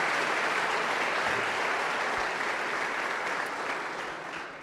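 A church congregation in Brazil claps for the worship and leaders, a dense, loud wash of many hands clapping together that holds steady and then slowly tapers off.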